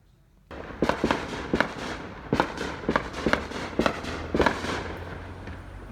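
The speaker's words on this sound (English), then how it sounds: "if you hear any bangs, it's just because people are setting off fireworks." Fireworks bang outdoors in an irregular series of sharp pops and cracks after a quiet start, moderately distant, echoing over a faint background.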